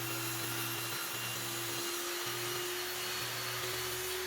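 A power saw cutting slowly through wood held on a sled set to a 45-degree angle, a steady loud whine with a constant drone that dips and shifts as the blade bites.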